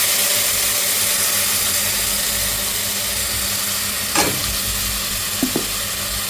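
Mint paste sizzling and frying in hot oil in a pan, a steady broadband crackle throughout, with a brief scrape of stirring near the end.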